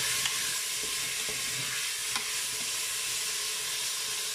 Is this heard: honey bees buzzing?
no